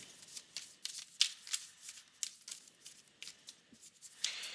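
Tarot cards are shuffled and drawn by hand in a quiet room, giving a run of soft, papery riffles and flicks in irregular bursts.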